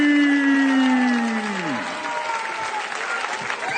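Arena audience at an ARES fight night applauds new heavyweight champion Slim Trabelsi after a technical-knockout win, a dense, steady wash of clapping and crowd noise, with a sustained announcer's voice gliding downward over the first two seconds.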